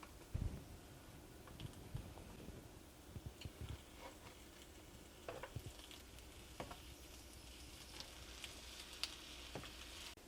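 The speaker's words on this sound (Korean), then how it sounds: "중불에서 앞뒤로 노릇노릇하게 구워주시면 되겠습니다" Soybean pancake made with glutinous rice flour and almond powder fries over medium heat in a pan, a faint, quiet sizzle broken by scattered small pops, light ticks and a few utensil clicks.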